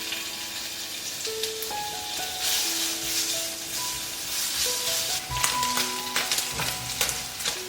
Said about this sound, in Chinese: 然后我们来起锅热油，把五花肉呢先放进来煸出油